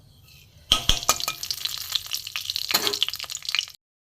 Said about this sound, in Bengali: এখানে আমার তেল গরমও হয়ে গেছে এখানে আমি এতে এই কালো জিরে ফোড়ন দেবো